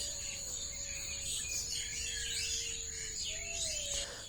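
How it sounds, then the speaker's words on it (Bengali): Morning chorus in the Sundarbans forest near Khulna, with a steady insect trill, whistled bird notes and chirps over faint background hum, all moderately distant. "সকালের শুরুটা হয় বিভিন্ন পশু পাখি এবং জীবজন্তুর শব্দ দিয়ে"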